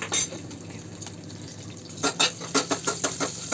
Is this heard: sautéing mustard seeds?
yes